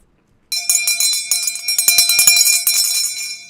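Small tinkly bells ring in a bright, rapid jingle, shaken repeatedly for about three seconds after a brief silence, loud and close with no talking over them.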